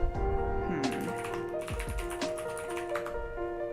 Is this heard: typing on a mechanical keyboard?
yes